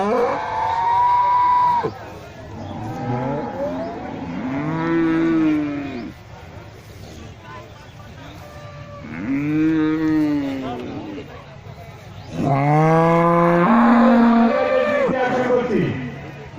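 Cattle at a government cattle expo in Bangladesh give several long, loud moos one after another, with a noisy crowd murmuring underneath.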